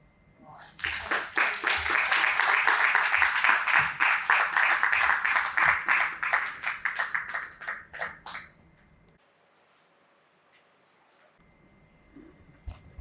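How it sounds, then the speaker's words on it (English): A summit audience in Port Harcourt applauds loudly and steadily for about eight seconds, dense clapping that tapers off and stops, leaving a quiet room with faint background noise. "you need much more than that round of applause"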